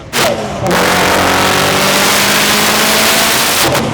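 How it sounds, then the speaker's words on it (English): A 2017 Subaru STI on a dyno roars loudly at high, sustained revs after a short opening burst, the engine note holding steady and close for the whole few seconds. "It's finally dyno day for the 2017 STI"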